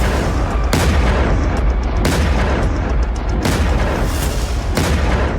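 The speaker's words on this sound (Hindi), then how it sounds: "5-5 सेकंड के अंतराल के बीच जोरदार धमाके से इस्फहान की धरती थर्राती दिखाई दी।" Heavy blasts boom in Isfahan after an attack, a run of loud, deep explosions arriving every second or so with rumbling, crackling tails, no voices present.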